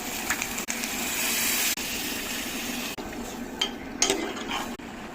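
Curry bubbling and simmering in a pan, a steady close wash of boiling and sizzling texture with a few brief breaks and faint clinks, no talking.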